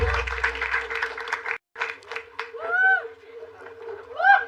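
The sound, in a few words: audience applause for comedian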